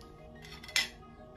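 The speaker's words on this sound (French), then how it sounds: "Nous allons ensuite rajouter la coupelle." A metal sample pan is set down onto an AXPMB thermobalance with a single short clink, close by and isolated over a quiet background hum.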